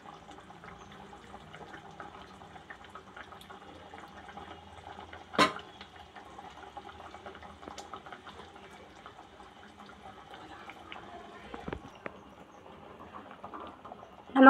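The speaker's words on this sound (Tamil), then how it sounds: "முட்டை சேர்த்து ஒரு கொதி நல்லா கொதிக்கட்டும்." Spicy egg gravy with halved boiled eggs simmers in a pan over a medium flame, a steady soft bubbling and patter throughout, close but quiet, with a single louder clack midway.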